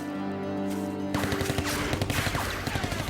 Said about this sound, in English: Suddenly, the trees come alive with gunfire, mowing down the men as they stumble and dive for cover.